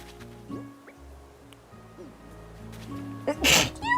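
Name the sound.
sneeze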